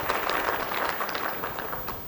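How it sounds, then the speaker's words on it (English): Light polite golf clapping from a small group at a workplace harassment training session, soft scattered claps forming a quiet continuous patter. "Golf clap."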